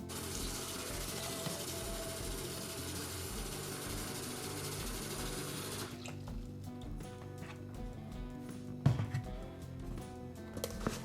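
Running tap water splashes over vegetables being rinsed, a steady broadband flow that abruptly thins after about six seconds into softer trickling and dripping with a few small knocks.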